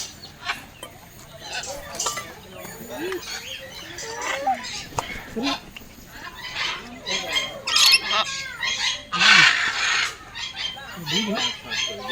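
Birds feeding at a jungle safari park near the Statue of Unity in Gujarat give sharp squawks and chirps at close range, with voices talking intermittently in the background.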